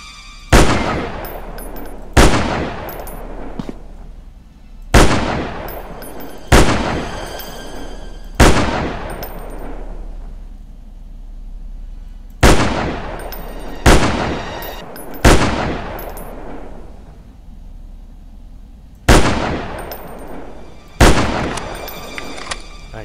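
Gunfire in a zombie shooter game: about a dozen loud, sharp gun blasts, spaced irregularly in small bursts, each with a booming ringing decay, close and dominant.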